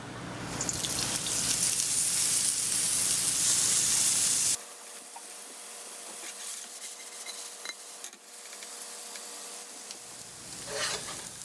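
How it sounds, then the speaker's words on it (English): Mushrooms sauté in oil in a pan with a loud, steady hiss for a few seconds, then the sizzle drops to a quieter crackle with occasional clicks and clatter. "Then, I will just saute them a little until they're nice and brown."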